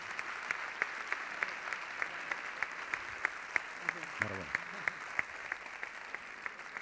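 Steady applause from an audience at a sports awards gala, greeting a winner on stage, with sharp claps running throughout at moderate level and a brief voice cutting in partway through.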